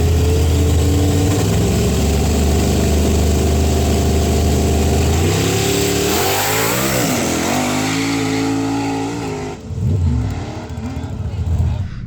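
At a drag race, a black first-generation Camaro running a big-block nitrous setup idles with a loud, heavy engine rumble. Its pitch then rises and wavers as it revs, followed by a brief dip and further revving.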